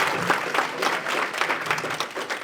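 Audience applause for Darren Blerd at a live podcast taping, a crowd clapping steadily with some individual claps standing out, fairly close and sustained.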